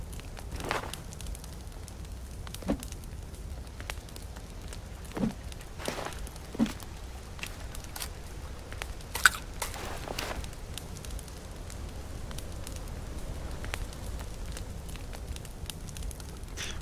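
A campfire inside a house in the survival game The Forest, with a cooking pot of water set on it, burns with a quiet, steady crackle. Scattered sharp pops and snaps stand out now and then, some louder than others.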